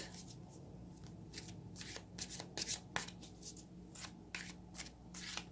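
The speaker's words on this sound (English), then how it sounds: "let's get a few more cards and see what we get" A tarot deck is shuffled up close in a series of soft, papery riffles and slides, irregular bursts over a faint steady hum, with no one speaking.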